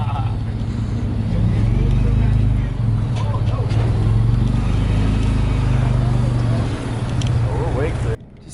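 A vehicle drags a trailer through a drive-through, giving a steady, loud low engine drone throughout with some bumps and knocks, and people talk over it.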